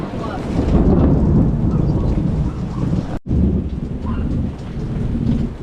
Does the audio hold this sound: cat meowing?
no